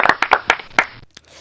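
Several sharp hand claps ring out close and loud in an uneven rhythm, a short burst of about six claps cheering students, followed by a brief faint tap and quiet.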